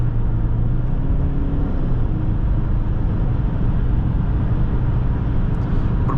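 A 2005 Subaru Outback 2.5 XT's engine hums steadily from the cabin, a continuous low drone with road and tire noise while the car pulls and builds power.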